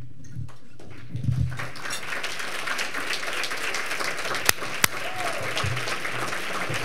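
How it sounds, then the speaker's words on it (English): Audience applause at a scholarship luncheon, a steady dense clapping that fills the room throughout, with a couple of sharp louder claps standing out near the end. "y'all clap like y'all mean it"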